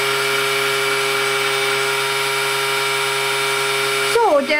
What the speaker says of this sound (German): Bohrer ist ziemlich runter mit dem Strom.